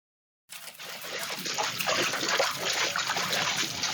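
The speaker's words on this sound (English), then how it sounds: "I noticed water trickling from beneath the door" Water trickling from beneath a door in a flooded manor starts suddenly after a moment of silence, then runs as a steady, close splashing flow that builds slightly and continues to the end.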